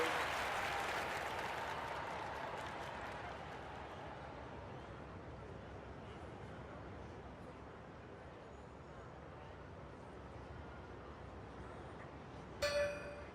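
Steady crowd applause fills an Olympic video game archery venue before the women's semi-final, a dense continuous clapping that slowly thins, with a brief sharper burst near the end.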